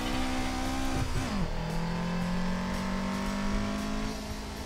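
Race car engine in a racing video game revving high, dropping sharply on a gear change, then climbing again in a strained, buzzy whine, loud and continuous with no talking.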